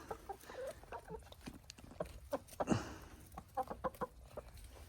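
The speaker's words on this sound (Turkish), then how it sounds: "Tavuklar temkinli." Hens clucking in the snow while being fed, giving soft, close, irregular clucks and short murmurs throughout, with a louder squawk near the middle and quiet pecking under the calls.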